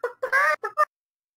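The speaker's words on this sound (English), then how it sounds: "The golden chicken." Golden chicken in the video game Destiny 2 lets out five quick, honking squawks in an uneven burst, loud and close, followed by silence.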